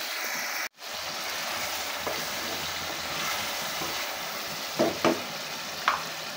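Beef stir-fried in a pan in a village kitchen, sizzling steadily with a sharp cut-off near the start, then a few scraping strokes of the spatula toward the end; no talking.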